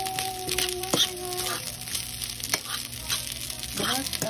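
Leftover rice fries in a pan with butter, salt and garlic, giving a soft, fairly quiet sizzle with a few scattered clinks and stirring scrapes.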